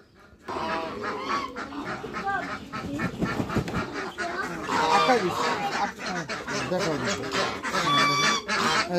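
Ducks and chickens at a farm being fed medicine mixed into their food, a busy close chorus of honking quacks and clucking calls that grows louder, with a person talking over the birds.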